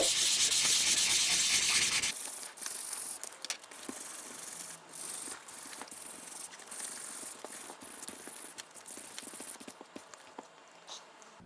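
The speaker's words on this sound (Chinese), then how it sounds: "所以接下来就是可能全部都要用这个800号磨一遍" Sandpaper of 800 grit rubs over a clear Gunpla plastic part, beginning with a loud continuous scrape, then settling into short, fairly close rubbing strokes in an uneven rhythm with brief pauses.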